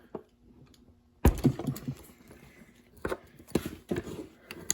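A 6mm wrench works the tight bolt on a Zeus Criterium bicycle derailleur, giving close, sharp metallic clicks and clanks in irregular bursts with short pauses between them.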